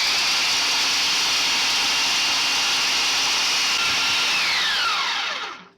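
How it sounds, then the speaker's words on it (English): A grinder processing three-quarters of a cup of roasted, peeled hazelnuts, a loud continuous high motor whine with a gritty rush that holds steady, then winds down and stops at the end, close and with no talking. "The instructions say to grind them until they get finely ground and then clumped together."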